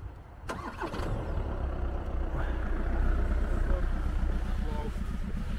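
A Volkswagen car engine runs at a steady idle throughout, a continuous low rumble close by, with an abrupt knock near the start and people talking over it.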